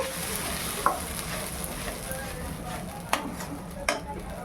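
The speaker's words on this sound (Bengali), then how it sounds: "একটু মিশিয়ে নিই তেলের মধ্যে।" Peas-filling ingredients stirred into hot oil, a steady close sizzle with a few sharp clicks of a spoon against the pan, no talking.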